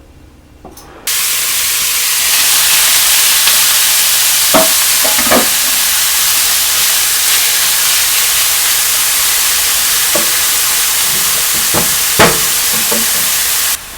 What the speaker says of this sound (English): Give the oil a moment to heat up, and then we're going to go in with our veggies.